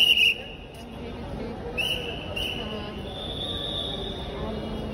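A metro train at a station gives off high metallic wheel squeals and a steady rolling rumble, with a murmur of voices in the background.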